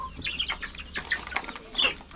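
Backyard chickens cluck and squawk in short bursts while wings flap and rustle, several birds close by and moderately loud, with no one speaking.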